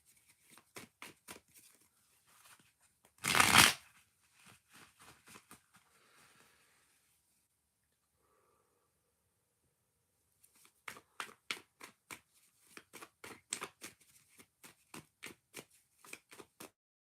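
Tarot cards are shuffled in two bursts of quick, crisp flicks and taps, with a single louder slap between them and a quiet gap in the middle.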